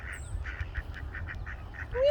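Ducks in a yard on a rainy day quack in a quick, steady string of short calls at middle distance, over a low rumble of rain and ambient noise.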